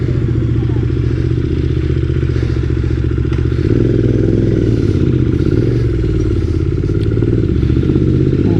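A motorcycle rides at speed with a GoPro mounted for motovlogging, a loud, continuous engine drone and rushing wind noise with some clattering, the tone shifting slightly midway.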